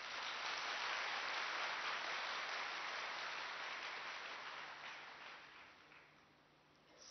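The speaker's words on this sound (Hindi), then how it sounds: "अपने लिए ताली बजाओ" Audience members clapping for themselves during a Hindi spiritual class, a dense steady patter of many hands that slowly thins and fades toward the end.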